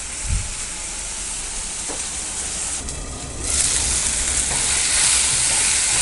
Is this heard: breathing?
no